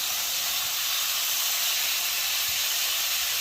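A steak sears in a seasoned skillet with a steady, loud, continuous hiss and sizzle that stays even throughout with no pauses.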